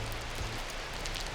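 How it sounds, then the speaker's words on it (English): Steady light rain falling during a bicycle tour from Bangkok to Malaysia, a soft even hiss with faint patter that continues without pause and no voices. "now that's not the heaviest rain in the world, although 6 hours in it you'd get quite a soaking"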